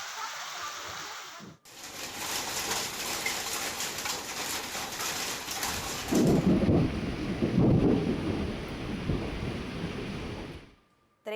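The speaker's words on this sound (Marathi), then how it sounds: "जोरदार पाऊस बरसला" Heavy rain roars steadily, with a deep rumble of thunder rolling through the middle before the downpour cuts off.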